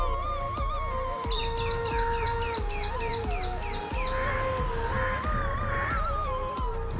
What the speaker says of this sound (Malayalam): കാക്കയുടെ സൗണ്ട് കേൾക്കുന്നുണ്ട്.